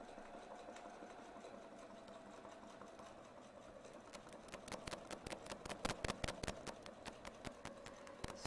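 A domestic sewing machine stitches around a quilting template, a steady quiet hum at first, then a faster run of sharp, evenly spaced needle strikes that grow louder toward the end, with no voices.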